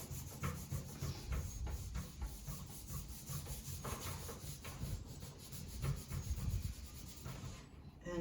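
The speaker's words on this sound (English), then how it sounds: "I'm literally going to touch the cloth with a little bit of polyurethane. Let that soak in, put it down, and I'll literally go around the edges first." Cloth rubbing wipe-on polyurethane into a wooden furniture piece, a steady soft scrubbing and swishing that continues close and moderately loud, with repeated back-and-forth strokes and no talk.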